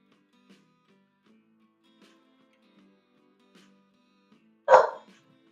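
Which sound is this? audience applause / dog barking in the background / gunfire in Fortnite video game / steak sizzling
dog barking in the background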